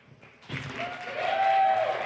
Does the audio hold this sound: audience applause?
yes